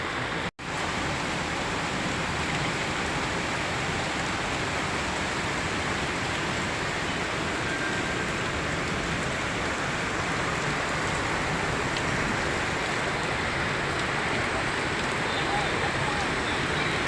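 Heavy rain pours down in a steady, loud roar during a flood, a dense unbroken wash of drumming water that briefly cuts out near the start, then continues evenly and grows slightly stronger.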